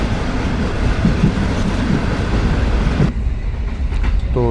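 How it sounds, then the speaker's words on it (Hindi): The Sukkur Express passenger train rolls along the rails between Ran Pathani and Dhabeji, giving a loud, steady rumble with faint clickety-clack from the wheels. The noise suddenly thins partway through, and a short wheel squeal sounds near the end. "तो ट्रेन हमारे इस वक्त रन पठानी और धाबा जी के दरमियान से गुजर रही है"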